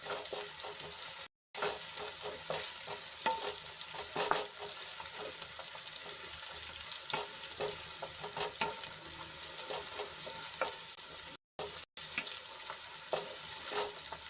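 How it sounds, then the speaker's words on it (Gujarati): Chopped onions sautéing in a pan with ginger-garlic-chilli paste, a steady close sizzle and crackle with occasional stirring scrapes, no talk throughout. "એમાં આપણે ડુંગળી એડ કરી લઈશું અને ડુંગળીને આછા ગુલાબી રંગની થાય ત્યાં સુધી આપણે એને સાંતળી લેવાની છે"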